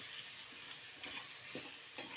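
Potatoes stirred as they fry in oil in a pan with salt and turmeric, a steady soft sizzle broken by a few scraping stirs, close and alone.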